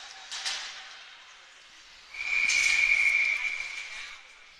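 A referee's whistle at an ice hockey game shrills as a single sustained blast of about a second, heard over arena crowd noise and a commentator's voice.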